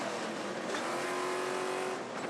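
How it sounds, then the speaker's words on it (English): Stadium Super Trucks with big V8 engines race flat out at Barbagallo, a loud, continuous roar of several trucks at wide-open throttle with a sustained engine whine and no breaks. "Just listen to those trucks eating those big V8 motors just wide open."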